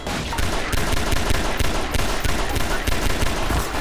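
Dense, continuous gunfire from the Half-Life 2 video game, loud and close, with rapid shots blending into a sustained barrage and no talk.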